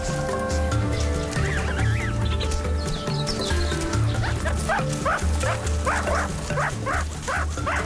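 Meerkat pups make a busy chorus of high, squeaky, repeated begging calls over a dense mix of rhythmic low tones and background music.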